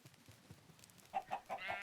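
Chickens clucking in a blocky superflat video game world, a run of about four short, fairly loud clucks and squawks near the end after quiet low rumbling.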